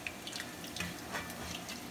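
Water is poured into a pot to be brought to a boil, a soft splashing trickle with faint drips, quiet and steady in the background.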